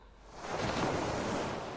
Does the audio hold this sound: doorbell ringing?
no